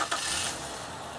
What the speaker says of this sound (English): so the engine starts and runs